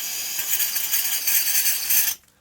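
Green gas hissing loudly as it sprays while a Tokyo Marui MWS airsoft magazine is filled, a steady close hiss that stops abruptly after about two seconds.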